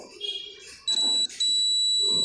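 A high electronic multimeter continuity-test beep sounds in two bursts, a short one and then a longer steady tone, while checking a motorcycle ABS component, with faint rustling and handling noise around it.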